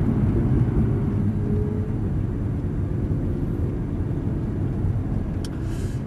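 Steady low engine and road rumble inside a moving Audi R8 V10 at Estoril, constant and fairly subdued with no speech.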